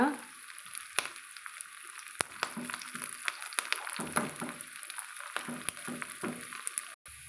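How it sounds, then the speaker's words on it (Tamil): Onions and curry leaves sautéing in a pan for Karaikudi-style ground-masala spicy sambar, giving a steady, close oil sizzle with occasional stirring scrapes and clinks throughout. "கொஞ்சம் அது வதங்கட்டுங்க ஒரு நிமிஷம் கலந்து விட்டுக்கலாங்க"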